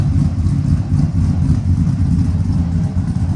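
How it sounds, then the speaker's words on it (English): A car with Flashark Racing stainless headers idles close and loud, a deep, even throb with a slight rhythmic lope from the cam, steady throughout. "You can hear that cam sing."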